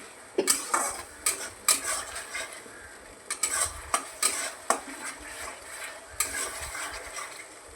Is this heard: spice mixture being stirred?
yes